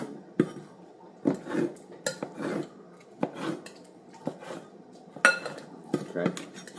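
A utensil repeatedly smashes avocado against a bowl for guacamole, making a run of close, clattering scrapes and knocks in an irregular rhythm.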